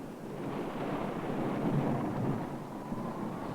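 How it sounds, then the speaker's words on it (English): Fierce thunderstorm at sea, a steady loud low rumble of wind and rain with rolling thunder swelling slightly in the middle, continuous throughout with no voices. "But there was no denying fierce storms."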